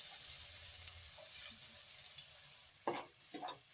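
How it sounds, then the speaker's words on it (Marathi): Chopped onion frying in hot oil with mustard seeds, asafoetida and curry leaves in a pan, a steady close sizzle with a few sharp stirring scrapes near the end. "आता मी याच्यात कांदा टाकते."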